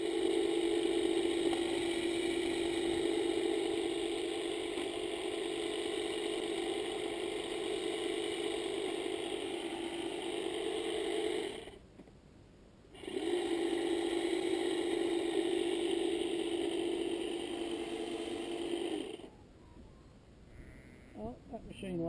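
GTM Elephants Trunk 2 hedge trimmer running steadily while cutting a hedge, a sustained buzzing engine drone with rattling blades, briefly cutting out twice before restarting; a voice speaks intermittently over it.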